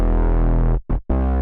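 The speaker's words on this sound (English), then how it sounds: "I then added this pattern right here, which contains a nice gritty bass, which I just filtered down a bit with an EQ." A gritty, distorted electronic bass, filtered down with an EQ, plays loud and sustained, with two quick dropouts near the end before the tone resumes.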